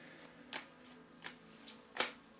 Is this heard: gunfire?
no